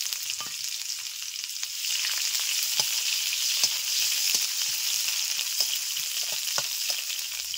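Chopped onion with whole white cumin and a dried chilli sizzling steadily in hot frying oil, a continuous bright hiss with occasional soft stirring taps, close and alone.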